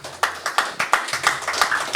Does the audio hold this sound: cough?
no